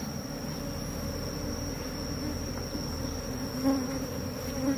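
A honeybee colony buzzes steadily at an open hive during an inspection where queen cells are being removed, a dense continuous drone holding close and even throughout with no talk.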